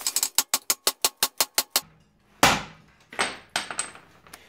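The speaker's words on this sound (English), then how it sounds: "few good whacks with a hammer should loosen that up if I'm lucky" Hammer strikes on a ball joint of a 1997 Mustang Cobra during ball joint replacement: a fast run of about ten sharp metallic whacks, then a pause and a few heavier ringing blows, close and loud.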